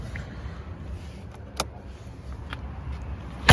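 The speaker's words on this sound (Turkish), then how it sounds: "kapı sesi de gayet düzgün" A Tofaş Doğan S car door shuts with a single sharp thud right at the end, preceded by quiet low rumbling and a few faint clicks.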